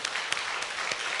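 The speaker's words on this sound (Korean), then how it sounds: "우리 박수로." A church congregation applauding a visiting chairman and board members, a brief burst of dense, steady clapping from many hands filling the room.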